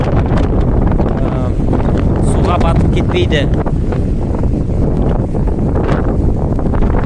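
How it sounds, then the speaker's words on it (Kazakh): Strong wind buffets the microphone on a shallow, sandy beach in Albania, a loud continuous rumbling roar that never lets up while a person speaks underneath. "Бүгін ауа райы желді."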